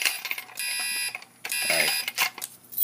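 A Commander 4 fire alarm panel sounds during a signal code test after re-alarming with a 4251 device, pulsing electronic tones in short bursts with gaps, close and moderately loud.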